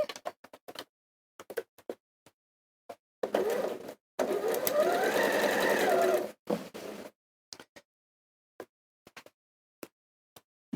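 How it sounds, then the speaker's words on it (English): A sewing machine stitches fabric, sewing a triangle into the V point of a star block, in short bursts and two longer steady runs, close and clear with no talk. "And sewing"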